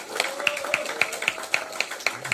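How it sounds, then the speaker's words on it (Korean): Steady rhythmic clapping at a South Chungcheong Democratic Party political rally, a group applauding at an even beat, with a faint tone lingering underneath. "큰 박수를 부탁드리겠습니다."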